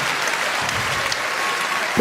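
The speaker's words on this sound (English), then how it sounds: "Here we go, people, keep clapping." Audience applause at a stand-up comedy show, a steady dense wash of clapping from a crowd that stays loud throughout.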